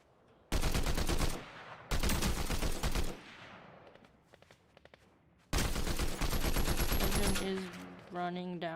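Loud bursts of rapid automatic gunfire in Fortnite, several sustained volleys with short gaps and scattered quieter shots between them, ending with tonal game effects.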